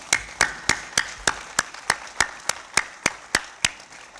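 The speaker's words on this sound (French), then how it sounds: "l'applaudissement s'il vous plaît." Audience at a sports event honoring a volleyball team claps in a slow, even rhythm: about fourteen sharp, distinct claps, regularly spaced and moderately close, with nothing else heard between them.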